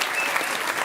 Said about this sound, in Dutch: Maud, een klein applaus alsjeblieft.